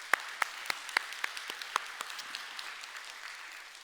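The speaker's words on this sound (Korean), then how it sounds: "하나님께 영광의 박수" Congregation applauding in a Korean church service: a crowd claps in a loose, rhythmic pulse of distinct strokes that gradually fades toward the end, moderately distant, with no talking over it.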